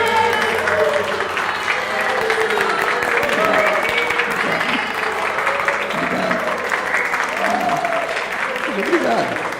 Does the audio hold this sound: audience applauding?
yes